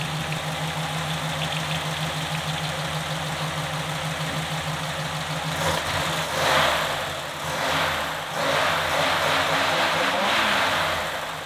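A 1949 Ford Shoebox with its original flathead V8 runs steadily at idle, a loud close rumble that swells in a few brief revs partway through, with no talk over it.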